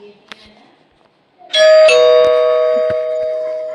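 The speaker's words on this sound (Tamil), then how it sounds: "என்ன காலிங் பெல் அடிக்குது?" A doorbell rings with a loud ding-dong chime in the Pou's Revenge mobile game, two bright tones that ring out and decay slowly, preceded by faint soft game sounds and small clicks.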